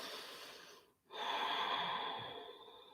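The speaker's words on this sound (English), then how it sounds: "Take one more breath." Deep, slow breath during a yoga flow: a long soft inhale, a brief pause, then a steady airy exhale that fades gradually, close and quiet with no talking.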